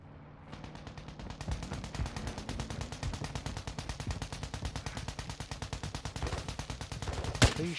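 Rapid automatic gunfire in a shooter video game, a sustained rattling burst of closely spaced shots running steadily for several seconds with one louder blast near the end, fairly close and with no talk over it.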